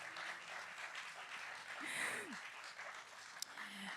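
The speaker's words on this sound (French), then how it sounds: "je demande une grosse main d'applaudissements pour Mélanie Guittard" An audience at an outdoor festival show applauds in a steady, fairly quiet wash of clapping, with a brief vocal sound rising partway through.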